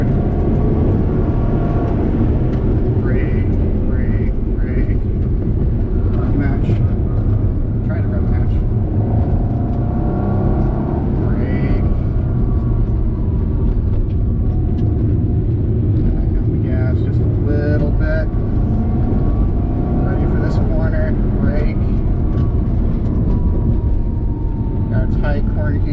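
A car engine drones loudly and continuously while the car is being driven, with the engine note rising and falling through a gear upshift. Someone talks over the constant rumble.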